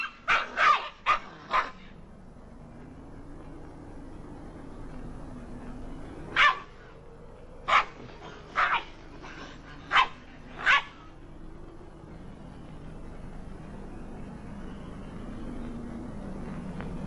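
Dog barking in sharp bursts, a quick cluster at the start then several spaced single barks in the middle, fairly close, over a low steady rumble with no speech.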